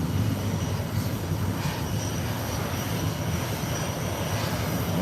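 Airplane taking off at Howard Hamilton International Airport, a loud, continuous broadband engine roar that holds steady throughout without speech.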